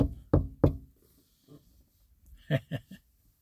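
Knuckles knocking on a car windshield's glass at a small wasp, two sharp close raps, then a soft tap and three quicker raps after a pause, in a quiet car with no talk.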